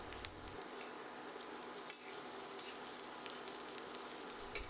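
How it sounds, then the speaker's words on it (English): Already-cooked potatoes pan-roasting in a hot pan for a crusty edge give a steady, soft sizzle close by, with a few brief clinks from a utensil. "These pan-roasted potatoes will get a crusty edge really fast without losing too much moisture"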